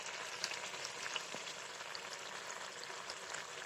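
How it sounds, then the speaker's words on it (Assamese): Cooking oil in a wok coming up to a boil, a soft, steady bubbling and faint sizzle with small crackles scattered throughout, heard alone at moderate distance. "এয়া প্ৰায় তেল ফুটিয়ে আহিছে।"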